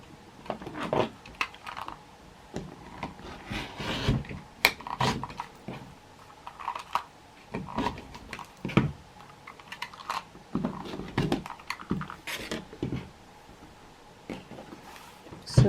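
Quilting fabric is cut along a ruler in quick, irregular bursts of close clicks and scrapes, quiet overall with short pauses between strokes.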